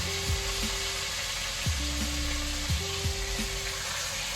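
Jamaican oxtail pieces are lowered into hot oil and sizzle steadily and close, a continuous frying hiss with a few soft knocks as the meat goes into the pot.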